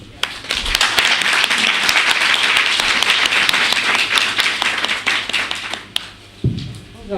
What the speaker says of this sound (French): Les applaudissements ne sont pas nourris